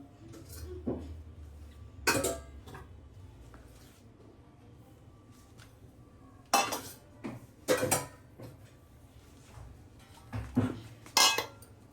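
Pots and pans clink and cutlery knocks as cooked red sorrel (gongura) curry is moved into a serving bowl, the metallic clatters coming in irregular bursts close by in a quiet kitchen.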